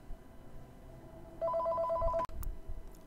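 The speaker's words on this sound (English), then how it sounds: "Stupid phone started ringing." A telephone rings in a short burst of bright trilling tones, faint against a quiet room background, cut off abruptly.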